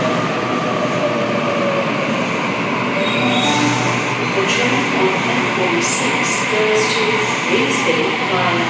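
A Sydney Trains service pulls into a platform at underground Town Hall station, with a loud continuous rumble, wheel squeal and rattling carriages throughout, while a platform announcement plays over it.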